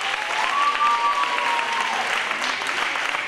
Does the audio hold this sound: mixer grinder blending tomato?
no